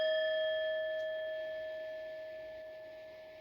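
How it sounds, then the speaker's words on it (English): A single struck bell during a spiritual energy-clearing session rings out with clear, steady tones that slowly fade over several seconds, alone in a quiet room. "I don't know why I felt the need to ring the bell."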